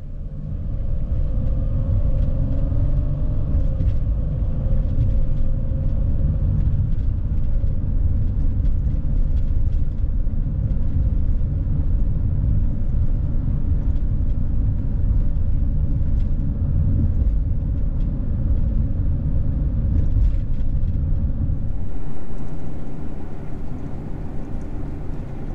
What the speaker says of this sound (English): See the traffic picking up?